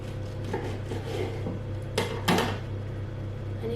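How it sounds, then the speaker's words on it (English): A knife cutting an orange into centimetre slices on a board, giving soft scraping strokes and a couple of sharper knocks as the blade meets the surface, close and quiet over a low steady hum. "the rest of the orange you're just going to slice into sort of centimetre sections"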